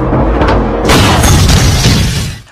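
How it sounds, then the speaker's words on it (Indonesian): A loud, roaring blast from a fire extinguisher exploding after being shot in an Indian action film erupts suddenly and fills the clip with dense, rumbling noise that fades out at the very end. "Tiba-tiba, Yufa menembak tabung pemadam kebakaran hingga menimbulkan ledakan."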